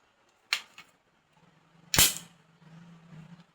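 AR-15 rifle bolt opened and a round loaded: two sharp metallic clacks about a second and a half apart, the second louder, followed by a low faint hum, no talk.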